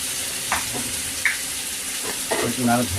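Meat fries in a pan with a steady hiss of oil, broken by a few sharp clinks and scrapes as it is stirred, and a brief voice near the end.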